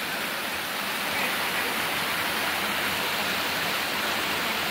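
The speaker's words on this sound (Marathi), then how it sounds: "पाहू शकता बघा चांगला धबधबा टाईप आहे." A forest waterfall pours in a steady broadband rush of falling water, loud and unbroken throughout, with no voices.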